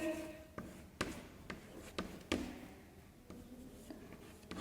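Handwriting in a classroom, a series of scratchy strokes and taps at irregular intervals, close but fairly faint against a quiet room.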